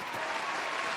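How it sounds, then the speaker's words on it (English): A crowd claps for a guest arriving at a podcast taping, a brief burst of steady, fairly loud applause with no voices on top. "please give a big round of applause for our friend"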